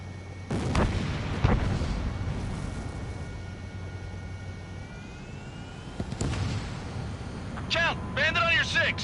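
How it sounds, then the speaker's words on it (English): Jet combat in Ace Combat 7 with sharp bursts and a whooshing launch transient around the middle, followed by chirping warning tones near the end, all over a steady low aircraft drone with radio chatter. "Spare 15 launching missile"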